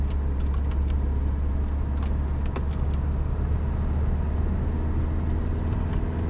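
Car with a 1.9 diesel engine driving on mountain roads, a steady loud low rumble of engine and road noise with faint light rattles on top, no voices.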